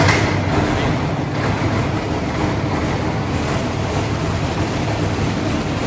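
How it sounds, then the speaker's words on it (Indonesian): A tourist locomotive at the Soedhono sugar factory in Ngawi runs with a loud, steady, broadband mechanical roar, close by and unbroken throughout. "lokomotif yang akan nyala ini"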